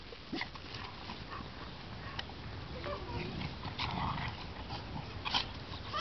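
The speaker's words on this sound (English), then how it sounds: "Can you woof? Woof. Woof." A dog gives a few short barks and yips on command indoors, faint and intermittent, with a quiet whimpering quality between them.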